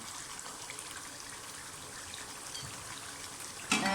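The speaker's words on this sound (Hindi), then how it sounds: "अब इसके अंदर मैं साथ ही चने डाल दूँगी।" Boiled chickpeas and their cooking water poured into a pot of browned masala for Lahori murgh chanay, a steady wet rushing pour that ends in a sharp clatter.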